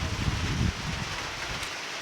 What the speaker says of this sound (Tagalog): mabasa ako ngayon, umuulan.